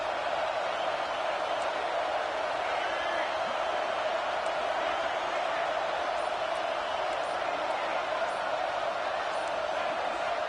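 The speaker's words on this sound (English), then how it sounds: "with this place rocking, the crowd forces a false start" Stadium crowd at a college football game with the Gamecocks facing fourth down, a loud, steady roar of massed voices that fills the whole stretch without letting up.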